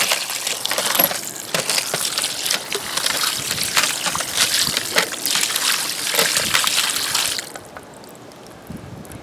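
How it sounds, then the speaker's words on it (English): Water splashes and trickles over tumbled agate stones during a quick rinse, with bright clattering and sloshing close by that continues steadily, then drops away abruptly near the end. "Quick little rinse."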